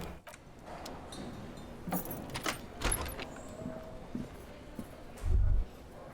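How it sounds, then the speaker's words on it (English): Key grinding and clicking in an old lock in the video game Disco Elysium, with scattered metallic scrapes and rattles and a final heavy thunk, close and moderately loud. "Takes a bit of effort to turn it after all these years, but then the lock clicks."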